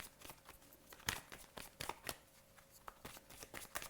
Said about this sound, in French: je vais recouvrir ce valet de pique